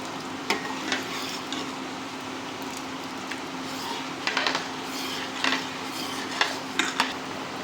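Rice tipped into a pot of boiled lentils for khichuri, with scattered light clinks and scraping stirs against the pot over a steady background hum, the bursts soft and intermittent.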